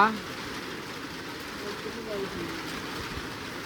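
Steady rain falls on a village farmstead, a continuous even hiss of drops throughout, heard close and moderately loud with no clear talk.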